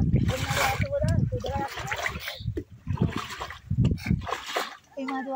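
Water pours down from higher ground into a wetland fishing pond, a loud continuous splashing rush that runs under a person talking close by.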